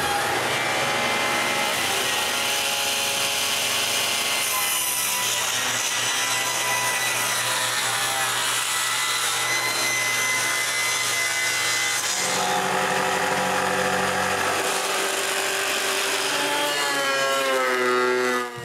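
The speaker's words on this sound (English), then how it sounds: "So I cut several pieces from the cherry board I bought." A hand saw cuts steadily through a cherry wood board, producing continuous rasping strokes that stay close and loud throughout, with no voices.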